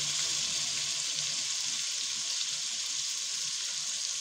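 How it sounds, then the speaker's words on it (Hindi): Chicken frying in a pan while being cooked for spicy chicken spaghetti, giving a steady, even hiss of sizzling oil at close range with no talking. "1 मिनट हो गया हम लोग को चिकन को पकाते हुए।"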